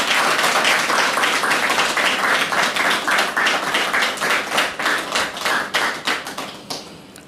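A church audience applauding and cheering for a couple, a steady crowd of dense clapping that holds loud and then slowly thins into looser, fading claps.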